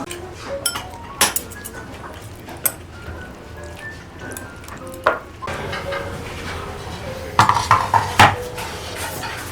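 Dishes and a tabletop brazier being set down on a restaurant table: scattered close clinks and clatters of ceramic and metal, a few sharper knocks, with faint room murmur behind.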